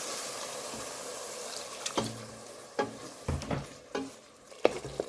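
Masala for beef nargisi kofte is stirred with a little water in a hot pan, giving a steady sizzle with several louder scraping stirs toward the end.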